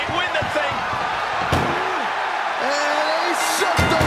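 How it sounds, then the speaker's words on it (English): An ambulance door slams shut during a wrestling ambulance match, a sharp close bang over a loud arena crowd, with a commentator talking throughout. "And they shut the door and have won this ambulance match"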